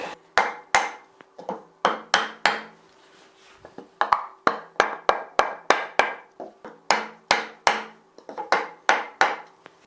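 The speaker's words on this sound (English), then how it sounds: "we can gently tap it with a block of wood to remove the gearbox" A wooden block repeatedly taps a planer cutterhead held in a vise to free the gearbox, a steady run of sharp, close knocks in quick bursts with brief pauses between.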